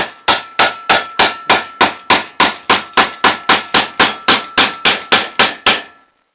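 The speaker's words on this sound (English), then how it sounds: "I use a little hammer so I don't go crazy" A small hammer strikes a part of a 5 hp Briggs and Stratton engine during a rebuild, about eighteen sharp metallic taps in a fast, even rhythm, close and loud.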